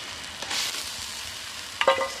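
Mashed potato and soybean paste frying and being stirred in hot oil for an eggless omelette curry, a steady close sizzle with a brief scrape of stirring near the end.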